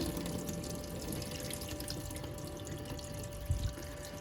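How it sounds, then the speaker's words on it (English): A water tap runs in a cheap, neglected motorhome, fed by the onboard water pump: a steady, even hiss of flowing water with a brief clunk near the end. "I've just turned this tap on over there"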